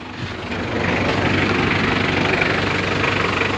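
A car engine idles steadily after its battery terminal has been disconnected, a constant close rumble with a slight knock, rising a little in level after the first second and running alone with no talk.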